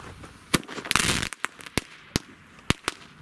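New Year's Eve fireworks and firecrackers go off outdoors: several sharp, loud bangs at irregular intervals, one longer crackling burst among them, with no voices.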